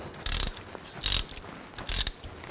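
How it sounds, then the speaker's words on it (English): Three short, close ratchet bursts snug up the fill plug on a Chevy Tahoe, each a quick clicking stroke separated by pauses. "Now put the fill plug in and snug this up."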